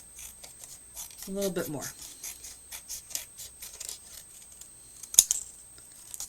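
Scissors snip through card while a lighthouse diorama card is being made, a short burst of crisp cutting strokes near the start and one sharp close snip later, with quiet talk over it.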